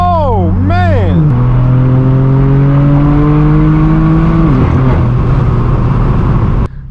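A straight-piped BMW M4 F82 exhaust revs loudly up close, with quick blips and a sustained high rev that climbs, holds and drops as the car pulls away, and engine noise dominates throughout.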